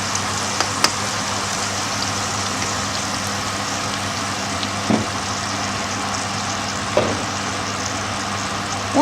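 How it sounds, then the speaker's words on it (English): Egusi (ground melon seed) frying in a pot, a steady loud sizzle with occasional faint scrapes and taps as it is stirred. "So you're kind of like frying the egusi."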